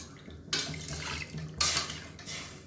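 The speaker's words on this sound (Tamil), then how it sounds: "இப்போ இன்னும் 1 டம்ளருக்கு தண்ணி சேர்த்துக்கலாம்." About a tumbler of water is poured into a cooking pot of bitter gourd soup in surges, splashing and rushing close by in two or three strong pours.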